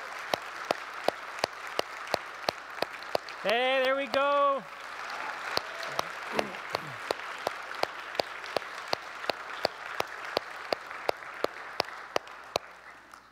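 Sustained applause in a church gathering honouring a woman turning 100, many hands clapping steadily with sharp individual claps standing out, while a voice speaks briefly near the middle and a short sung or hummed phrase rises over it.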